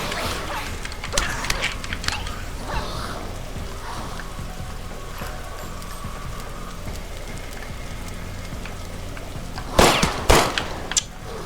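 Gunfire in the zombie video game The Last Stand Aftermath, scattered sharp shots over a constant rainy hiss, with a louder cluster of bursts near the end and no talk.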